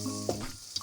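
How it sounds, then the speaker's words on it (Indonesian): Chili sambal ingredients frying in a pan, a steady hot sizzle with a stirring scrape and brief pops, heard up close without talk. "Nah ini bahan sambalnya kita goreng ya guys."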